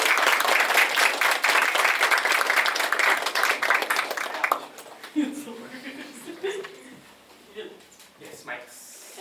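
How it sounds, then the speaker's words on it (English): Loud, dense applause from a panel-discussion audience, sustained for several seconds before fading into scattered claps and voices talking. "A big round of applause for him."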